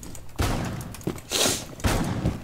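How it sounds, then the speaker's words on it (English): Light machine gun fire in a video game, several loud booming bursts of rapid shots in quick succession with brief gaps between them, close and dominant. "LMG mounted and loaded."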